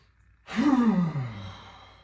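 A single forceful exhale in a Kundalini breathing exercise, a loud, close, breathy rush that rises suddenly and fades out over about a second and a half.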